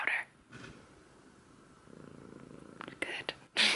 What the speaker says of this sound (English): Let's get her to purr real quick.